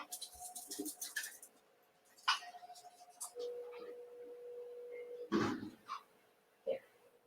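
Pet bird cooing indoors in a few soft, low calls, faint and intermittent, with a person talking nearby and a dog in the room.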